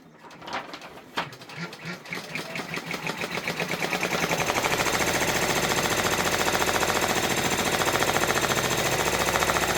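A Brother embroidery machine stitches a freestanding gingerbread village bridge, starting with a few separate clicks and thumps, then settling into a loud, fast, steady mechanical rattle of rapid needle strokes.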